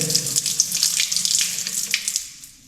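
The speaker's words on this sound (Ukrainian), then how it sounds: "практично завжди ви маєте тут воду, яка може вільно текти" Water pours steadily from a tap at a wild campsite in Morocco, a close, continuous splashing hiss that tapers off toward the end.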